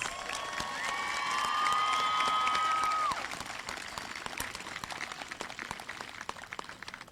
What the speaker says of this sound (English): Let's all give our graduates one more round of applause.